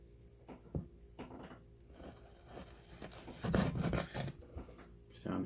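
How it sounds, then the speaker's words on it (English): A kitchen knife being sharpened while beef jerky is prepared, heard as a series of irregular, close rasping strokes of varying length that grow busier and louder toward the end. "It's time to sharpen this knife up."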